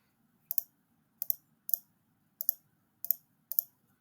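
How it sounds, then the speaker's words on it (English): Keyboard keys pressed at a computer during database work, six short crisp clicks in spaced pairs and singles, close and clear over a faint low hum. "Just pressing control to select everything, and just a left cursor key, direction key on my keyboard."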